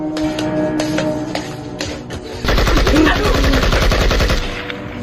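Gunfire in an Indonesian student short film about the G30S/PKI events: a slower run of single shots gives way to a dense, loud burst of rapid automatic fire lasting several seconds.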